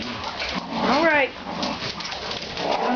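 Dogs whimpering, with one high, wavering whine rising and falling for about half a second near the start, under a steady hum of nearby talk.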